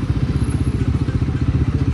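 Royal Enfield Guerrilla 450 motorcycle engine running close by, a loud steady throbbing with an even low pulsing beat and no speech over it.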